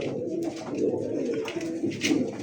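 A pair of pigeons, a Nuran Bar Lark and an Iranian breed, coo softly and repeatedly at close range in a steady, throaty rhythm.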